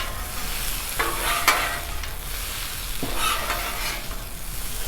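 Chorizo frying in its grease on a Blackstone griddle, a loud constant sizzle broken by several metal spatula scrapes and clanks as it is mixed, no talk.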